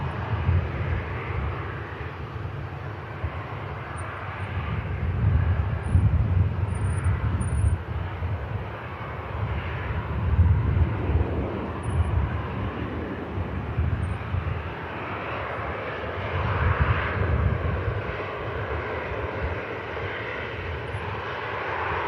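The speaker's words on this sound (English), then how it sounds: "Also a Ryanair about to taxi past us in a moment." A Ryanair airliner taxiing past at Manchester Airport makes a steady, moderately distant engine rumble with a broad whooshing hiss that swells and fades slightly over about twenty seconds.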